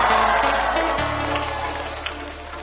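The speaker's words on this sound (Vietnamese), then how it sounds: "Một tràng pháo tay cho vũ đoàn ABC" An audience applauds and cheers for a dance troupe at a live stage show, a loud, dense wash of clapping and crowd noise with a low musical hum underneath that drops away after the first second.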